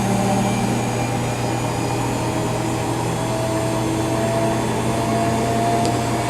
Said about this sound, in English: this is starting the spin cycle now